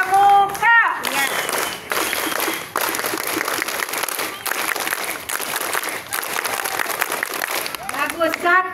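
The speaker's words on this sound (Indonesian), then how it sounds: "Dua kali tepuk pramuka." Schoolchildren at an elementary school Pramuka scout day ceremony break into the rhythmic Pramuka scout clap, a dense burst of many hands patterned in quick sets and lasting several seconds, with a few voices and an adult speaking briefly at the start and end.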